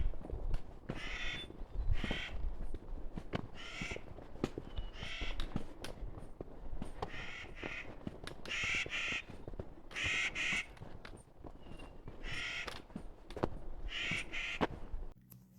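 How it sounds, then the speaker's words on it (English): Crows cawing along a high mountain hiking trail in Yellowstone, a series of harsh, evenly spaced calls repeating roughly every second, fairly close and clear over faint outdoor background with no talking. "And then, more birds."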